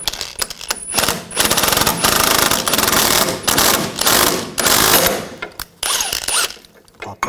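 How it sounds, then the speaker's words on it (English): Rapid rattling impact tool hammers on a front end puller, separating a ball joint from the control arm of a 2000-2006 BMW X5, in loud sustained bursts with short pauses between them. "I'm going to use a front end tool, a puller, just to separate the ball joint from the control arm."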